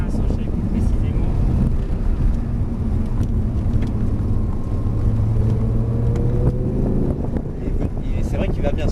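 A Lamborghini with a 525-horsepower V10 engine drives along, its steady droning engine note rising in pitch under wind noise, with people talking inside the car.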